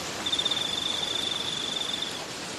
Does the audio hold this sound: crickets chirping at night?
yes